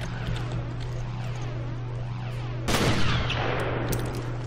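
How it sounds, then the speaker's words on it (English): Gunfire in the video game Resident Evil Revelations, a dense stream of rapid shots over a steady hum, with a louder burst of blasts midway followed by scattered sharp reports. "you can hear my gun raving"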